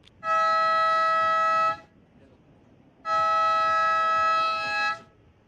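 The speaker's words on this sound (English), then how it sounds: "So that siren signals the end of the women's round of 16, heat number 4." A siren at a professional surf contest signals the end of a women's heat: two loud, sustained tonal blasts, each about a second and a half, separated by a short pause, with faint background noise between.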